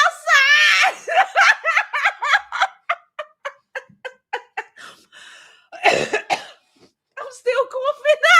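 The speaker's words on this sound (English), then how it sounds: "I'm still coughing." A rapid series of harsh coughs in a close voice, bursting in quick succession, with laughter-like voiced sounds before and after.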